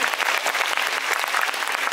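Dense, continuous applause from a live audience at a Universal Studios Japan rock and roll monster show, steady and loud throughout with no pauses.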